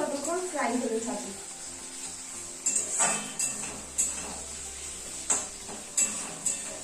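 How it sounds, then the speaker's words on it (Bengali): Chopped tomato fries in a pan in a home kitchen, giving a quiet, steady sizzle with a few sharp clicks and taps from stirring and a brief murmur at the start. "টমেটোটা ততক্ষণ ফ্রাই হতে থাকে"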